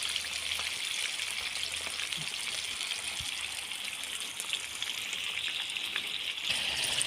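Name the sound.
chicken liver frying in a pan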